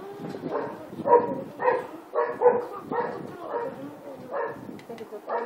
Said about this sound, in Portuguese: se você tiver um cachorro tá latindo aí